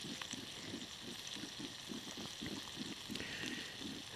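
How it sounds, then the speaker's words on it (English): Steak frying in a pan on a winter outdoor cook, a steady close crackling sizzle with soft rhythmic popping throughout, no talking. "Steak starting to cook a little bit more."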